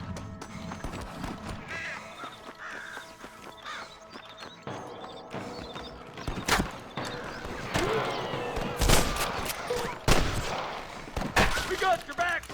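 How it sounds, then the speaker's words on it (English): Gunfire in Red Dead Redemption, scattered shots and bursts cracking out amid horse hooves and whinnies, some shots sharp and close, others more distant, over a low ambient bed. "I can hear more gunshots."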